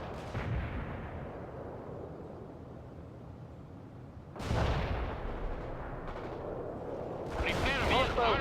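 Rockets and gunfire in a World in Conflict battle: a sustained rumbling barrage of artillery-like blasts, with a louder burst of explosions midway and sharp crackling fire near the end.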